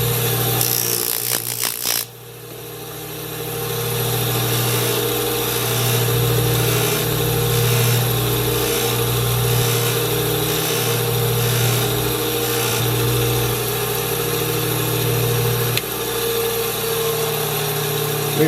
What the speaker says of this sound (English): Now I got my buffing wheel. I use kind of a coarse compound to start.